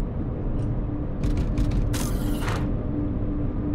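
A door lock mechanism in the Deathwing video game grinds and creaks in a short cluster of metallic clanks and scrapes over a steady low industrial hum.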